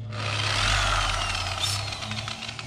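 A dual action polisher with a pad and polish runs on the painted surface of a Beechcraft Bonanza A36 aircraft, giving a steady, close, loud whirring drone throughout with no talk.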